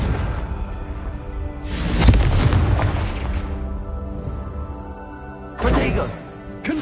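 Confringo blasting spell explosions in the Hogwarts Legacy video game, two heavy booming blasts with a crackling tail between them.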